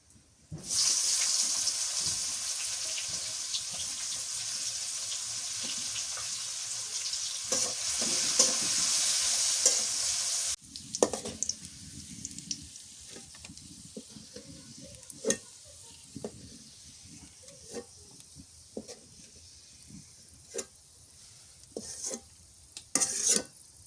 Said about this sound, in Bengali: কটা শুকনা মরিচ ভাজি আর কটা পেঁয়াজ কুচি দিয়ে দিই।